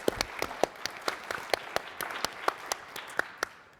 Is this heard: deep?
no